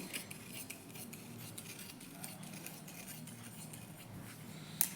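Scissors snip through blouse cloth quietly and close up, a faint series of soft crisp cuts against a low room hum.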